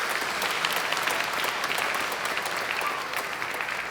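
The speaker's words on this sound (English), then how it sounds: "Please give her a big round of applause" A university convocation audience gives a big round of applause, a loud, dense, unbroken clatter of many hands throughout.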